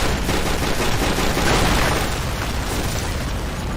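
In the film The Ultramarines, a tower blows apart after being shot, a dense, sustained roar of blasts and crackling bursts filling the whole moment at close range.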